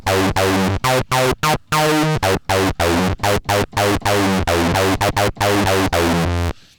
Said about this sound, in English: you get that acid kind of lead sound